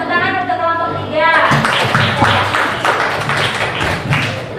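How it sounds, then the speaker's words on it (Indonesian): Classroom applause for a student group after their presentation, several seconds of scattered claps and thumps with a voice talking over the start. "tepuk tangan untuk kelompok 3."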